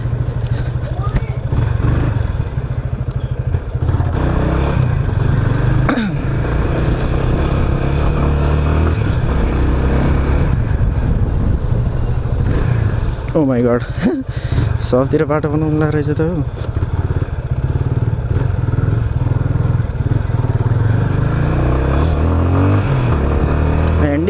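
A Yamaha Fazer 25 motorcycle being test ridden on a road, its engine drone and wind noise running steadily throughout, loud and close, with a rider talking over it.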